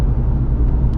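Ford Fiesta ST with a Collins Performance Stage 3 tune rolling slowly through town, a steady low engine rumble filling the whole second at close range with no pauses or talk.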